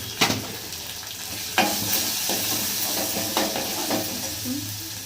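Ginger-garlic paste and turmeric frying in a pan, a continuous sizzle punctuated by a few sharp scraping stirs of a spoon against the metal.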